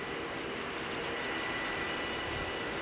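Mitsubishi Challenger 850 private jet arriving at Manchester Airport, a steady broadband engine roar with a low rumble, continuous and moderately loud throughout with no talk.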